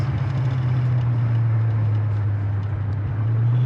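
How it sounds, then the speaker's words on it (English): A steady low engine drone and road rumble from inside a moving 1969 Mercury Cougar, constant and fairly loud with no talking. "going down the road in this 69 Cougar steals up nice"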